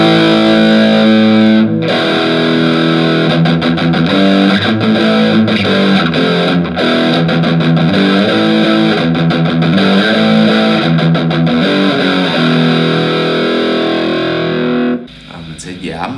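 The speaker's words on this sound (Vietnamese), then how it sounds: "Maximum luôn ha, thì các bạn sẽ nghe cái tiếng rè của nó càng nhiều." Electric guitar played through a Cort CM15R practice amp with the gain at maximum, a loud, heavily fuzzed tone with sustained chords and choppy riffs running continuously for about fifteen seconds before a brief cut.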